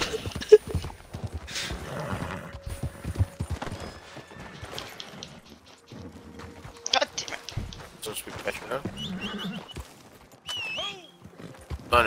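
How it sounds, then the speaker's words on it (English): A horse in the Red Dead Redemption 2 video game clip-clops along with hooves and a neigh, mixed with game sounds while players talk over it. "The horse is running faster than unlimited."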